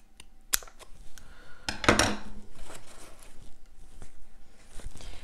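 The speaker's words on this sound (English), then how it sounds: "here come the scissors." Scissors snip through sticker paper with a few sharp, close cuts and a quick burst of crisp cutting, plus light rustling of paper.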